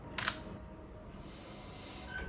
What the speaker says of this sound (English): I'm using the shutter release cable.